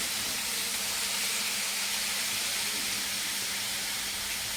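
Masala spices fry in a pan with a steady, bright sizzle and hiss, continuous and close, with no voices.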